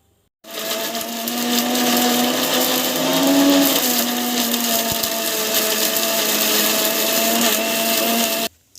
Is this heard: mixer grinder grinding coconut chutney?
yes